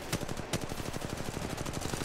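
Automatic weapons fire in a video game: a rapid, evenly spaced burst of loud shots running continuously, close and dominant.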